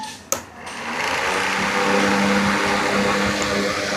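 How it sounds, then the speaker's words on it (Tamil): A 12-inch DC table fan powered by a 12V battery switches on with a sharp click, then its motor spins up into a steady whirring hum that holds close and even. "இப்போ வந்து நம்ம ஃபேனை வந்து ஆன் பண்ணி பார்க்கலாம்."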